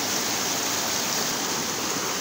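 A natural spring stream flows between mountains under trees, giving off a steady, dense rush of water that stays even and close throughout, with no voices.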